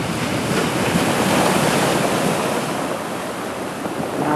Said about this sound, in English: Now the waves are getting bigger.